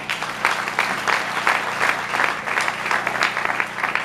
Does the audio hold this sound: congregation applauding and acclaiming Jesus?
yes